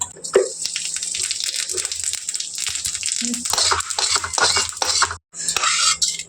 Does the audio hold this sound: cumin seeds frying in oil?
yes